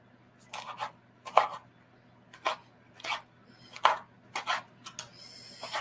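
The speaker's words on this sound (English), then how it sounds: "Just chop some bacon up." A knife chops bacon on a board in about nine sharp, separate strokes at an uneven pace, close by and fairly quiet.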